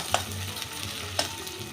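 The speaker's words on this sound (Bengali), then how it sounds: "পেঁয়াজটা আমি একটু লাল করে ভেজে নেব" Chopped onion frying in oil in a pan, a soft continuous sizzle with a couple of sharp stirring clinks from a utensil.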